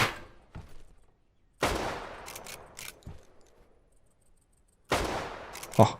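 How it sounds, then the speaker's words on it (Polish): Gunfire in the survival shooter game Deadside: three separate loud shots or short bursts, each with a long reverberant tail, separated by quiet gaps. "Dobry strzał."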